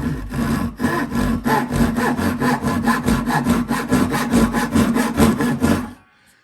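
A Dewalt single-edge pull saw works through clamped wood in about two dozen quick, even rasping strokes. The rough rhythmic cutting is close and loud, then stops abruptly near the end.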